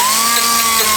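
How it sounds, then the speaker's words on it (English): A power sander grinds along the edges of an aluminum interior insert, giving a loud, continuous high-pitched whine with a steady tone over a short stretch and no talk. "Sand on the edges."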